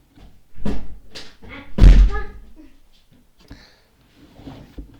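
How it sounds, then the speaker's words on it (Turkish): A door shut indoors, one loud slam standing out between bursts of nearby speech. "şu kapıyı kapatayım"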